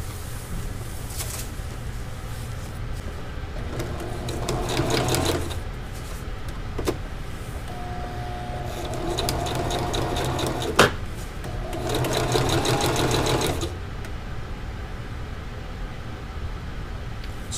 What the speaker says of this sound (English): I really need to sew that little bit of the end there, just to try to make sure I don't have down leaking out of that